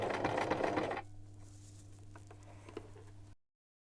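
A sewing machine whirs in a fast, loud burst while stitching homemade piping with cord, then stops, leaving a low steady motor hum with faint ticks and a small click before silence.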